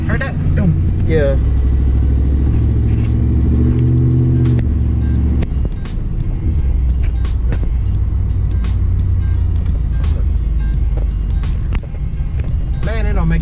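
A Chevy OBS truck's engine idles and revs, close and loud. A rumbling drone shifts in pitch early on, then settles into a rougher idle. People talk over the engine.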